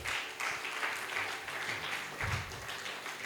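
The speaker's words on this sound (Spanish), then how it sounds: "Dale fuertes palmas de alabanza a Jesús de Nazaret" A church congregation in Cochabamba claps loudly in praise of Jesus, a steady rhythmic wash of many hands with a few louder bursts, filling the room without speech.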